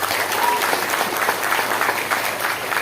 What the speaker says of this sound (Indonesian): Tepuk tangan untuk Ali Sofyan.